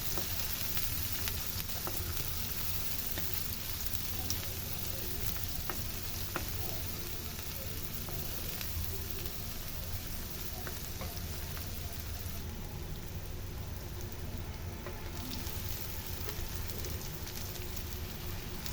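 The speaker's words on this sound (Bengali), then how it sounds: "একটা কড়াইতে পেঁয়াজ কুচি রসুন কুচি আর মরিচ দিয়ে ভালোভাবে নাড়াচাড়া করে নেবে" Chopped onion, garlic and chili stir-frying in a wok, a continuous dense sizzle like light rain that holds steady throughout with no talking.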